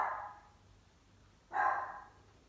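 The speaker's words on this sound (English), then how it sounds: "And of course, while I'm doing a video, he's got to bark, doesn't he?" Pet dog barking indoors, two short, sharp barks about a second and a half apart, fairly close, with quiet between them.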